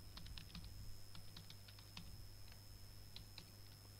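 Computer keyboard typing Dropbox login details: a quiet run of quick, uneven key clicks, close and alone over a steady low hum.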